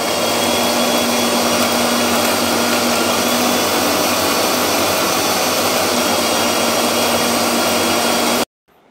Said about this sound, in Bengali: এখন এটাকে ব্লেন্ড করে নেব